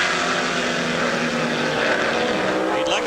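Race car engines roar through a steady, dense wall of sound at the IMSA Camel GT race at Lime Rock, with a commentator talking over them and a rising whine near the end as one car passes close.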